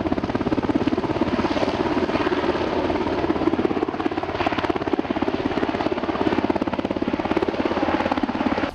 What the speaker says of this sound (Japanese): とにかく今ヘリが来るそうですけれど